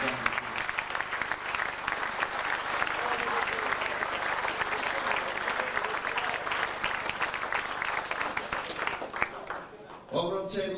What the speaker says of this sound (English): Would you give them all a round of applause, ladies and gentlemen?